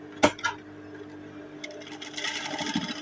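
A sewing machine stitches pieces of Ankara fabric together after they are pinned, a fast rattling whir that starts after a sharp clack and runs steadily to the end, close and alone with no talking.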